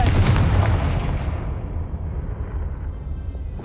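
Fiery explosion spell cast in the Hogwarts Legacy video game: a loud booming blast at the start that rumbles and decays over a few seconds, with no talking.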